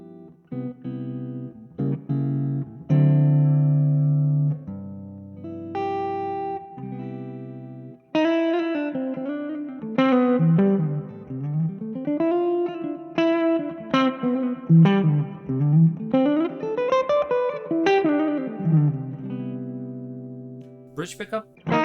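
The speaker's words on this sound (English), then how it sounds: "So basically I use it as a clean amp with reverb," Clean electric guitar through a Vox AC10C1 tube amp with spacious reverb, chords ringing out and then melodic bends and single-note runs, sustained and tube-warm, no voices.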